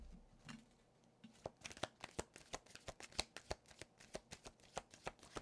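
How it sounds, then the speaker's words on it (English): Tarot cards being shuffled close up in a quiet room, a steady run of crisp riffling slaps after a brief pause, with no talking. "I hate the sound of shuffling, but it's a necessary evil"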